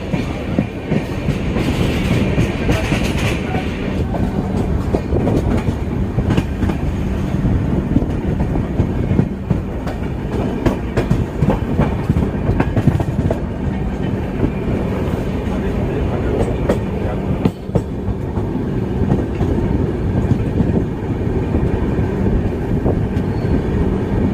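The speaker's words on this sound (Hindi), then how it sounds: "आगरा कैंट से भी काफ़ी अच्छे एक्सीलरेशन के साथ राजधानी एक्सप्रेस निकली है" The Rajdhani Express pulls away from Agra Cantt, heard from on board as a loud, continuous rumble with rhythmic wheel clatter over rail joints and occasional squeals throughout.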